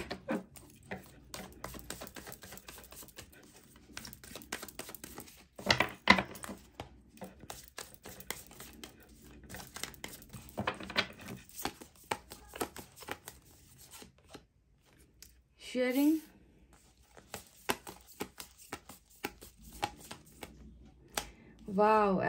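Tarot cards are shuffled and drawn in a quiet indoor reading, with soft riffling and rubbing strokes and light card slaps throughout, while someone speaks over much of it.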